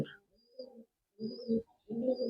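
Murshidabadi pigeons coo close by in three short throaty bursts of soft rolling calls separated by brief quiet gaps.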